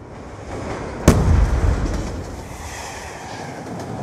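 A bomb blast in Black Ops 2 Search and Destroy, a sudden loud explosion that rumbles and decays over about a second amid continuous game ambience.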